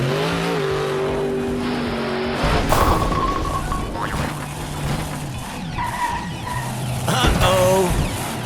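A monster truck, number 5, roars through a jump and lands badly, with engine revs, tire squeals and a loud crashing impact partway through, then more engine noise and clattering.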